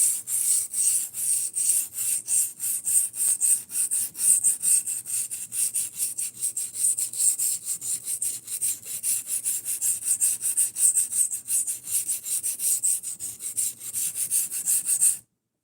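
A tanto knife is hand-sharpened on a Cheefarcuut 400 grit stone, giving a close, continuous scraping and rasping made of rapid, even strokes that stop abruptly.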